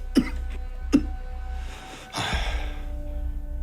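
A patient in a clinic coughs twice in sharp, close bursts, followed by a breathy exhale, over a low steady room hum.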